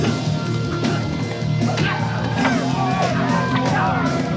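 Canned crowd roar behind a wrestling fight scene in the Ultimate Warrior film Zone Mortelle, with steady cheering, yells and whoops filling the whole stretch at a constant, dense level.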